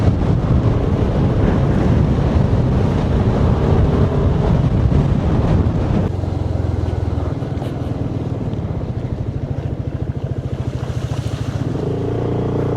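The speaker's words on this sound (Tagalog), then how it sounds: "Grabe, lakas ang hangin." Strong wind roars and buffets against the microphone, loud and continuous, with a low rumbling undertone throughout, on a rainy mountaintop during a Kymco Xciting 400 scooter ride.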